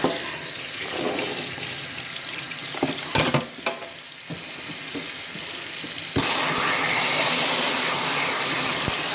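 Hot water runs from a kitchen faucet into a freshly cleaned sink, a steady broadband hiss and splash with a few brief knocks and clinks on top, close and continuous.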